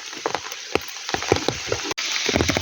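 Rain pattering steadily on a forest floor and foliage, a close, soft crackling hiss throughout, broken by footsteps, rustles and brief knocks nearby.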